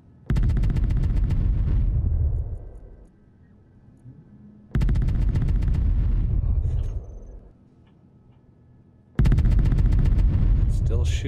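Automated defensive turret in the Space Engineers video game firing in three separate loud bursts, each a rapid rattling stream of shots lasting about two seconds with a decaying rumble, separated by quiet gaps.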